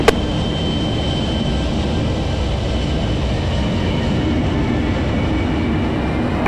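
An Avro Vulcan XL426 jet bomber taxis with its engines running, a loud steady roar that holds without a break from start to finish.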